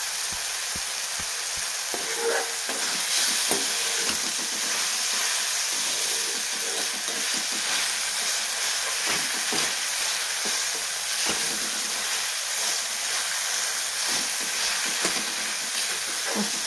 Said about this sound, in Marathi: आणि आता आपण मीठ घालून छान परतून घेऊया.